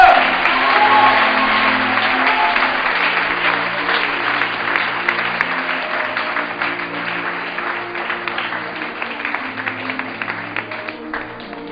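A church crowd applauds a pastor as he arrives, dense sustained clapping that stays loud and continuous for several seconds before easing slightly, with a few voices mixed into the clapping.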